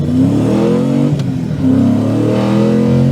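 A loud, nearby V8 engine swapped into an R34 Nissan Skyline revs up and settles, its deep burbling note rising and dipping twice with a brief clatter in between.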